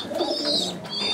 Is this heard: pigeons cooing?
yes